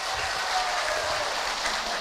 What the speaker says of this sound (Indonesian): tepuk tangan untuk orang Garut